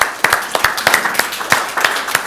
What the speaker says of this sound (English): give them a clap, well done